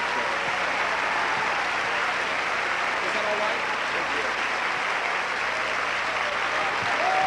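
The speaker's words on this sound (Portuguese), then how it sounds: "Dê ao Senhor uma salva de palmas" A church congregation gives a sustained round of applause in praise of the Lord during a sermon, a continuous dense wash of clapping from many hands, steady in level and with murmured voices beneath it.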